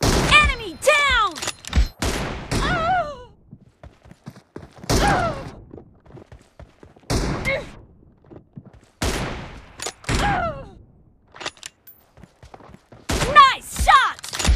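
Sniper shots from an M24 rifle in BGMI, a mobile battle royale game, in a team deathmatch: sharp cracks spread across the stretch with pauses between them, each trailing a short echo, mixed with game voice callouts.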